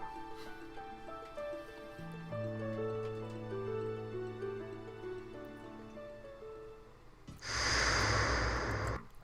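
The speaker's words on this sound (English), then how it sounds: "can hear him breathing" A steady run of electronic musical tones gives way to a sudden, loud, rough burst of heavy breathing or snorting close to the microphone that lasts a couple of seconds.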